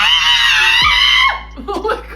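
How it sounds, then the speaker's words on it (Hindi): A frightened bat shrieks in a loud, shrill, wavering scream lasting just over a second, followed by a few shorter squeaky chirps. "ये सुनकर बेचारा चमगादड़ डर के मारे चिल्लाने लगा"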